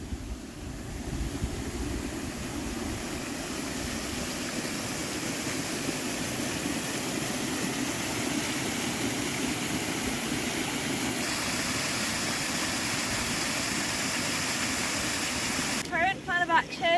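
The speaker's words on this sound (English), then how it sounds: "There's a proper waterfall going on here." Water pouring steadily off the end of a grassy homestead terrace by a wall in a flooded field, a continuous loud rushing wash, close by and unbroken, with a brief clatter near the end.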